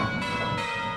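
A church bell strikes in a bell-ringing simulator, a bright metallic ring that repeats in steady strokes about every third of a second, each tone ringing on into the next.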